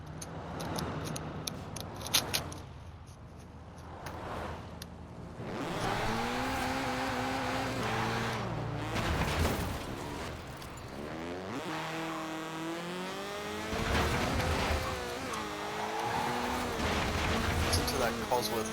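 A Cosworth four-cylinder race car engine in Forza Horizon 4 revs and climbs through gears, loud and close, with shifting pitch sweeps and tire noise, while someone talks over it.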